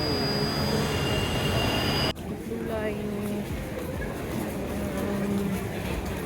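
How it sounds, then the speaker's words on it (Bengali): Kolkata metro train running, a steady broadband rumble with thin tonal whines and squeals that shifts abruptly about a third of the way in and then continues evenly, with faint voices underneath. "তো সেখান থেকে আমরা মেট্রো করে নেব"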